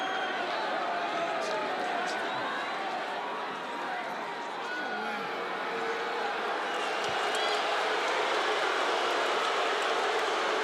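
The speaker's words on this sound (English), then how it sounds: "the crowd doesn't like it" A fight-night arena crowd at Dustin Poirier vs Justin Gaethje, a dense, steady roar of thousands of voices swelling with disapproving noise throughout, loud and continuous with no single voice standing out.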